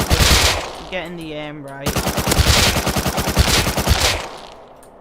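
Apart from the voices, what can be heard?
MP5 gunfire in video game Rust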